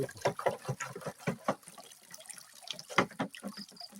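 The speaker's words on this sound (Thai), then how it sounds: "ใช้น้ำไหล" Water flows and trickles close by in a series of uneven splashing, gurgling bursts with brief quieter gaps, heard alone without talking.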